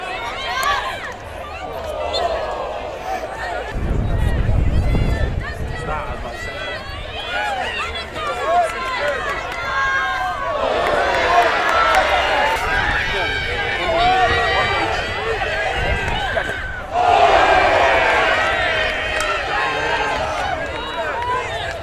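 Crowd at a women's university varsity hockey match, a steady roar of cheering and chatter swelling in waves, with louder bursts midway and near the end, heavy thumping low noise at times.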